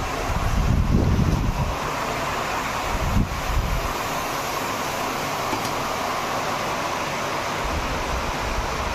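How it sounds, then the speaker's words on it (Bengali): Heavy rain and strong wind lash the outside of a house, heard from indoors with the window shut, as a steady, dense roar with a few louder gusts early on and no voices. "বরষুণ বতা দুয়োটাই আহিছে"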